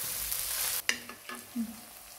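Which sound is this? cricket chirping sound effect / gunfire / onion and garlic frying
onion and garlic frying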